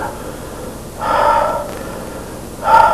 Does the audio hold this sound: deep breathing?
yes